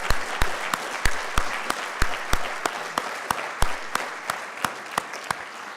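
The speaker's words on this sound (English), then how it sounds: "let's give our permit staff a well-deserved round of applause" An audience at a city's state-of-the-city address applauds staff with steady clapping and sharp individual claps standing out on top, sustained throughout at moderate loudness with no talking.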